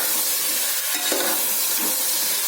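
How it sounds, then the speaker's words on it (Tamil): Vegetables sauté in a pan for sambar rice, a loud steady hiss of frying with a couple of brief stirring scrapes, close up and without talk. "இது வதங்கட்டும் நான் வதக்கிட்டு காமிக்கிறேன்"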